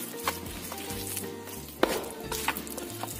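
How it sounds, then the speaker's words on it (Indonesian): A fermented cassava (tape) mixture with vanilla and salt is stirred by hand, giving soft, close scraping and light wet sizzling sounds with a few sharper knocks. "Aduk sampai tercampur rata"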